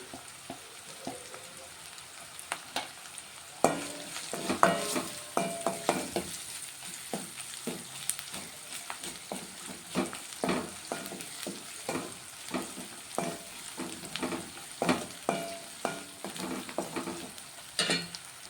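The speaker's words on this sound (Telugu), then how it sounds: "ఇప్పుడు ఇందులో కొంచెం అల్లం వెల్లుల్లి పేస్ట్ వేసుకుంటాం అలాగే కొంచెం పసుపు" Ginger garlic paste and turmeric fry in a pan, a steady sizzle broken by repeated scraping and clinking of a spoon as the mixture is stirred, close and without talk.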